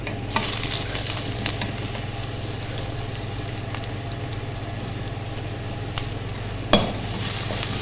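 Steady sizzling of onion, ginger and garlic frying in a hot pan with oil, close up, with occasional utensil scrapes and a sharp clink near the end.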